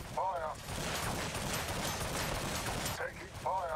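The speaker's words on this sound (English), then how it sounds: "Taking fire." Gunfire from a Warhammer 40K Battlesector battle between Orks and Blood Angels, a dense continuous rattle of shots and impacts that fills the whole stretch, with game voice lines heard briefly at the start and end.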